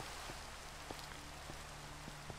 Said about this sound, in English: Rain, go away. Come again another day.